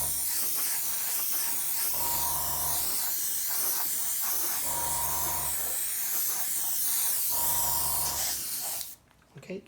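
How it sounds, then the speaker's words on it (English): An airbrush spraying paint at about 22 psi in short bursts, three soft hissing sprays of roughly a second each over a constant background hiss, close by, ending with a brief quiet. "I'm using about 22 psi for this."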